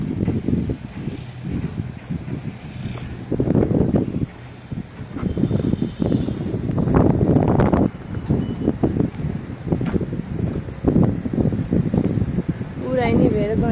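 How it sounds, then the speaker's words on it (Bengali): Steady outdoor wind gusts buffet the microphone with a rumbling rush, rising and falling across the clip, while a person talks over it throughout. "অনেক সুন্দর বাতাস আসে এখান থেকে।"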